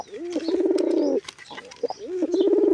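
Pigeons coo close by in two rounded, throaty bursts, with a short pause between them and no talking.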